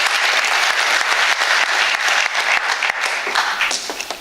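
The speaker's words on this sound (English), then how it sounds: "Another round of applause." A round of audience applause at a community talk about MuslimViews, loud, dense clapping from a large crowd that carries on evenly and begins to thin out near the end.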